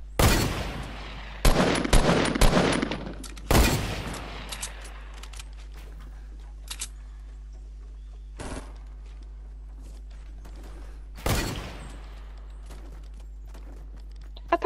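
Gunfire from teams fighting in Fortnite, sharp bursts of rapid shots clustered early, then sparser single cracks and a late volley, with faint footsteps and quieter stretches between exchanges.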